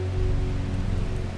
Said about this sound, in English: It's another rainy day.